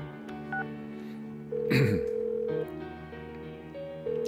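Phone dialing a call in Persona 4 Golden, a short run of dialing beeps and a tone over steady background game music, with a brief burst of noise partway through.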